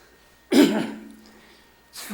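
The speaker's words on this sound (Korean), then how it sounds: "자꾸 기침이 나오려고 그러는데" A single loud cough bursts out at close range during a Buddhist dharma talk at a temple, followed by a fainter rough tail and the start of a second cough at the end.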